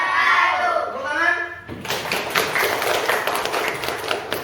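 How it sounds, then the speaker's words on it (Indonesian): An audience in a school-like gathering breaks into hand clapping after a voice speaks at the start, the clapping starting abruptly and continuing as a dense, even patter to the end. "Tepuk tangan."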